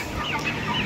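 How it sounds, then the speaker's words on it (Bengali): Tiger breed hens in a farm shed, several birds clucking and murmuring close by in a brief, busy chorus. "এগুলো হচ্ছে মুরগি,"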